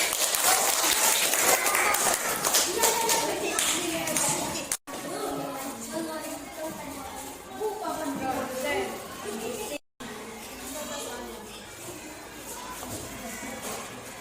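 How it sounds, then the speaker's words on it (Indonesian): Students in a classroom give a brief burst of clapping for the producer group early on, followed by a teacher talking over a noisy room with scattered voices. "Tepuk tangan buat kelompok produsen."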